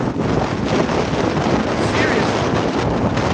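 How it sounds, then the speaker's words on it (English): Strong wind roars steadily across the microphone on a beach in Fortaleza, Ceará, a loud, constant rushing blast with no pauses throughout. "Look at the wind, guys."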